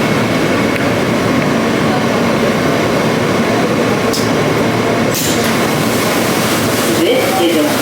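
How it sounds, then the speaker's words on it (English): Inside a moving New York City subway train, a constant loud rumble and rattle of the car fills the whole stretch, with a few brief squeals and clanks rising above it. "This is a World Trade bound train."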